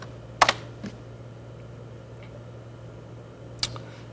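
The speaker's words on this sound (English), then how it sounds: "I'll just type in some text." A few sharp computer keyboard clicks sound as text is typed, a quick double tap, then a lone click a few seconds later, over a steady low hum.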